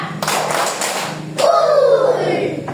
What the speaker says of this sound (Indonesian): Tepuk tangan tiga.